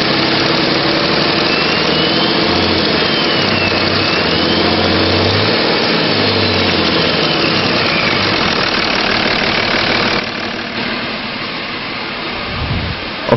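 A 2005 Dodge Ram 2500 pickup with a 5.9 liter turbo diesel runs steadily at idle, a loud, close, continuous rumble with a slight dip in level near the end.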